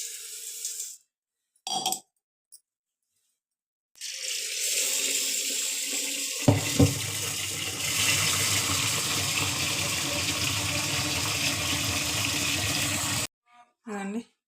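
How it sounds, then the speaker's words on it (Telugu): Water gushes steadily into a pot holding two glasses of rice and one glass of lentils, a continuous hissing pour lasting several seconds, preceded by a few short clinks and soft handling sounds and ending abruptly. "అదండి నీళ్ళు వేస్తాను"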